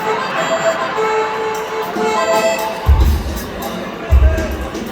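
Concert crowd at a show at the Capitol Center for the Performing Arts in Concord, NH, giving a guest a noisy cheer, with a voice talking over the room and two heavy low thumps.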